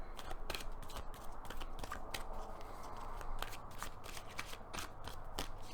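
Rapid papery riffling of a card deck being shuffled, steady crisp flutters close up with no talking.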